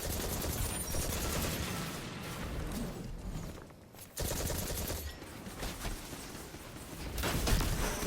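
Rapid automatic gunfire from the Monte Carlo auto rifle in the video game Destiny 2, loud sustained bursts with mechanical clatter, briefly dropping out before firing resumes.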